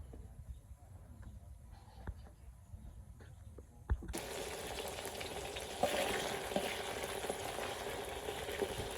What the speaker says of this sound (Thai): ทอดให้เป็นกรอบๆทุกคน